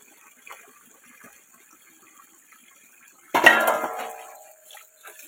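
Dishes are washed at home, with faint scattered clinks, then a sudden burst of clattering utensils and splashing water that fades over a second or so.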